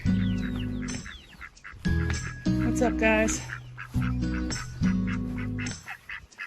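Farm ducks quack and honk loudly and repeatedly in close, rhythmic bursts while a person speaks briefly over them.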